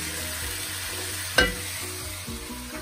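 Diced carrot and other vegetables for a Peruvian shrimp chowder (chupe de camarones) go into a hot pan, a sudden sharp hiss as they land, then steady close sizzling and frying with no talk.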